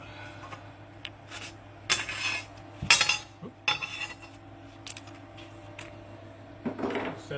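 Glazed pottery pieces clink and scrape against one another and hard surfaces as they come out of a kiln, several separate clattering bursts spread through the span, fairly close and moderately loud.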